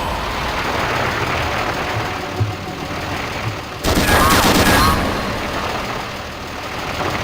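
Tank turret machine gun bursts over a steady rumbling engine in the Gunman Chronicles PC game, a loud dense burst of fire dominating the middle of the clip against continuous mechanical drone.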